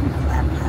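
A dog's short bark or yip, close and fairly loud, in a brief burst.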